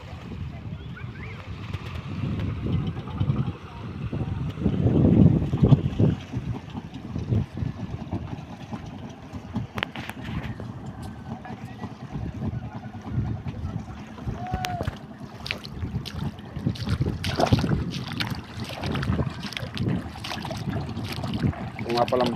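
Motorized fishing boats head out to sea in rough weather, a continuous engine drone mixed with wind buffeting and water noise, while people talk intermittently nearby.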